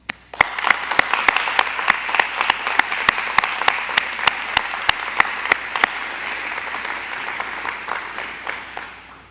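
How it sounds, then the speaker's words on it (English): An audience at a Grade 12 graduation ceremony claps in a sustained round of applause, dense and even with sharp individual claps standing out, holding steady for the full stretch before easing slightly at the end. "Please join me with a round of applause"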